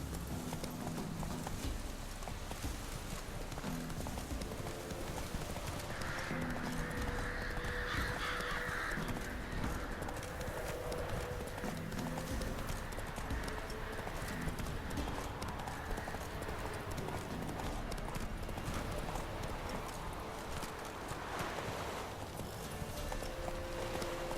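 Roach the horse's hooves clip-clop steadily through The Witcher 3, a continuous rhythmic trot under crows cawing, ambient game music and occasional faint talk.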